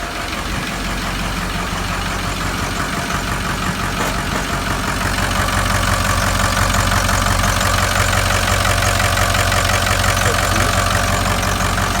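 A Ford 6.0 litre Powerstroke diesel idles steadily just after starting, a close, loud and continuous engine rumble with a faint knocking texture that grows slightly louder partway through.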